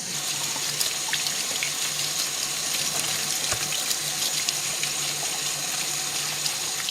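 Beef tripe for white menudo being rinsed under a running kitchen tap, a steady, even stream of water splashing into the sink for the whole stretch, with no voices.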